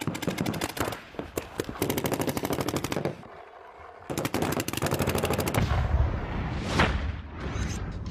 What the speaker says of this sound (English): Paintball meets wall.